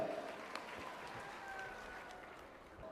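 Steady applause from a crowd at a school ceremony in Karjat, marking the start of Mahatma Gandhi Vidyalaya's platinum jubilee under Rayat Shikshan Sanstha; dense, even clapping fills the hall throughout at moderate loudness.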